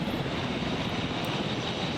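Steady drone of a helicopter engine in the video game Jurassic World Evolution, an even, continuous mechanical roar at constant loudness with no talking.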